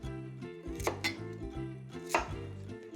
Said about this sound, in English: And then we'll cut it in slices, just like that